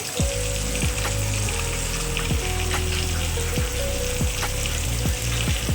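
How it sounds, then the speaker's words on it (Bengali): Eggplant and pointed gourd slices frying in a pan for a monsoon khichuri meal, a steady loud sizzle and hiss running throughout, with repeated sharp clinks of a utensil against the pan. "এখানে বেগুনটা ভাজতে দিলাম, বেগুন আর পটলগুলো ভাজবো।"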